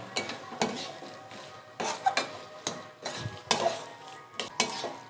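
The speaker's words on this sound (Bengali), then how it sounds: "দিয়ে আবারও ভালো করে নেড়ে নেব।" A fried, ground spice mix is being stirred into vegetable cutlet filling in a pan, with repeated close scrapes and clinks of a spatula against the metal over a soft, low sizzle.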